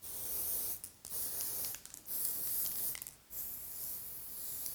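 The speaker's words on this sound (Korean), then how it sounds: "앞머리 볼륨만 살리고 고정 스프레이까지 뿌리면 끝입니다" Hair fixing spray misted onto styled bangs to finish a slick-back undercut in a salon, heard as close, soft hissing bursts separated by short pauses, with no talking.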